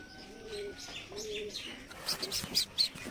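Giribaj pigeons at their nest coo softly twice in low rolling notes, followed by a few sharper chirps and light rustling close by.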